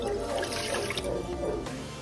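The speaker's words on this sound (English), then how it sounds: "in this saucepan, you are going to put 1 cup of room temperature water" Room-temperature water poured from a cup into a saucepan on a stove for churro dough, a steady close trickling splash lasting about two seconds.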